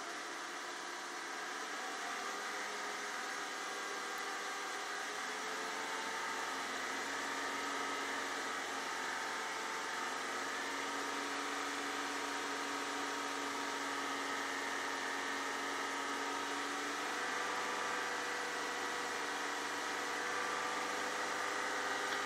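A car engine held at about 3,000 RPM, apart from fitted with different spark plugs, drones as a steady, continuous hum. The pitch rises slightly in the first seconds and then holds even throughout, with no talk over it.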